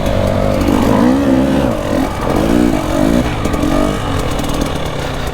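A dirt bike engine revs loudly and continuously while riding, its pitch rising and falling in repeated surges through the throttle, close and steady for the whole stretch.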